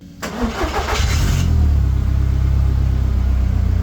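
A car engine in a garage cranks briefly, catches with a roar, then settles into a loud, steady idle nearby.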